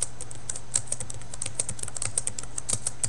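Rapid keystrokes on a computer keyboard, close and crisp, a quick irregular run of clicks with no speech.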